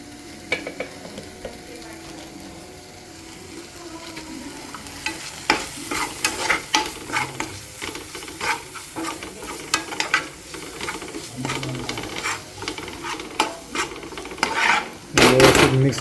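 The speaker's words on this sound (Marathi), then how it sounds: "व्यवस्थित मिक्स करून घ्यायचा." Prawn masala fry being stirred in a pan, with steady scraping, rasping strokes over a soft sizzle, close and clear, growing busier and louder toward the end, with no talking.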